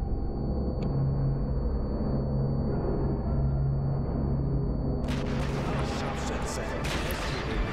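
Heavy, continuous gunfire and explosions rumble through a battle in the video game Sniper Elite V2, a dense low roar that sharpens into crackling blasts near the end, with talk mixed in.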